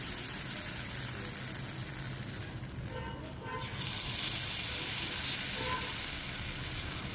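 Sweet paniyaram batter sizzling in hot oil in a paniyaram pan, a close, steady crackling hiss that swells louder midway as more batter goes into the wells.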